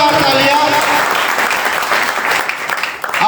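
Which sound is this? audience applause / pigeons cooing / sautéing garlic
audience applause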